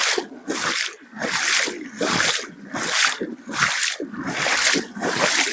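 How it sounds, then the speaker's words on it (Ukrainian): Footsteps wading through shallow floodwater over flooded hay meadows beside an overflowing river, a steady rhythm of about a dozen wet splashing, sloshing strides, close and fairly loud, with no talking. "Куди пройдуся по воді."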